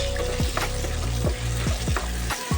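Chopped onions fry over medium heat in a pan with spices, giving a continuous close sizzle broken by several sharp scrapes and stirs at irregular intervals.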